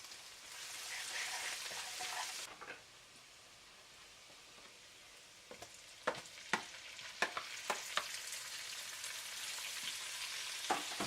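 Cabbage with pork and carrot stir-fries in a pan, a broad hiss that drops away after a couple of seconds and gives way to quiet sizzling and a run of crisp spatula knocks near the end.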